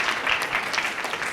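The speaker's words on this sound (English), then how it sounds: "let's give him a round of applause" Audience applause at a literary event, a steady wash of clapping from a crowd filling the short moment without any voices.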